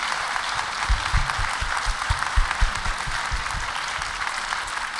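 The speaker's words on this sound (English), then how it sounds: "Can we just get a round of applause for that?" Audience applause at a Brooklyn Talks event featuring Jane Goodall: a steady wash of clapping from a crowd, moderately loud and continuous throughout, with no one speaking over it.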